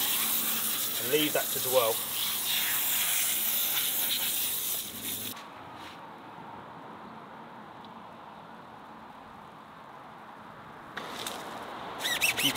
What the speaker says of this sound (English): I'm actually going to go in with the Decon Shampoo in an IK foamer